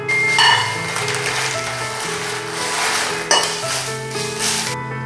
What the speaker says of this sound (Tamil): வரமிளகாயை மிதமான தீயில் 3-4 நிமிஷம் நீங்கள் வறுத்தெடுத்துக்கோங்க